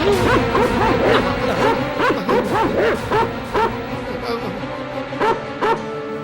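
A dog in a Tamil movie scene barks repeatedly in quick, uneven bursts, mixed with whimpering yips, fairly close and loud.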